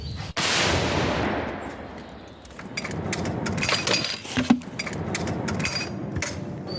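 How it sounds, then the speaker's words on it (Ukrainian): A sharp, loud cannon blast opens the clip, followed by a long rumbling roar and echo that fades, then scattered clinks and rattles. "Постріл."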